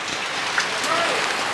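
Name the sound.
rain falling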